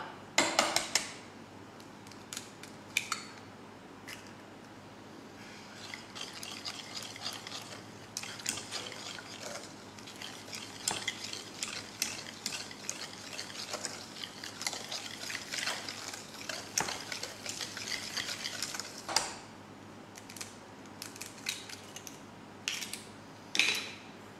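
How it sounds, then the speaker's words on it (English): A whisk clinks and scrapes against a bowl as eggs are beaten one at a time into chocolate brownie batter, with irregular metallic taps and rattles close by and no talking. "I'm going to whisk them in after each addition."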